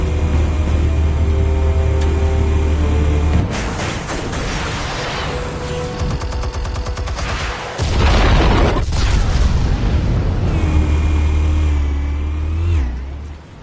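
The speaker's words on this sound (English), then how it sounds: "Explosives armed. Fire when ready." Explosives going off in a Batman video game: heavy booming blasts and rumbling engine-like roars, loud and sustained, with shifting bursts over a low droning bed.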